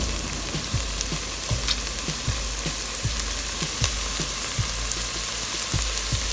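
Minced garlic and spices fry in a pan with a dense, steady sizzle, punctuated by regular light taps of stirring, close and continuous with no talking.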